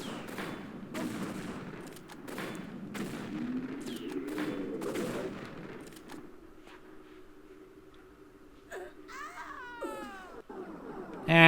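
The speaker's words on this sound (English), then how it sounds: "basically what I do is just shoot her until she dies" Gunfire from a pistol-style weapon in Tomb Raider III, fired repeatedly at a boss enemy: a dense stretch of sharp shots over game noise and music, thinning out, with a rising creature shriek near the end.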